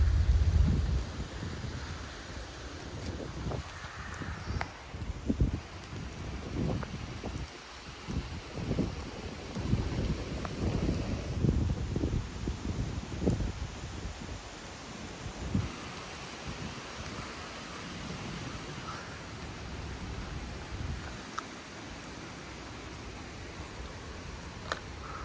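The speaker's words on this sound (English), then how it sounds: "Oh yeah, there's a lot of thunder." Thunder rumbling through a windy rainstorm outdoors near trees, low booms mixed with gusting wind buffeting the microphone and rustling leaves over a couple of long stretches.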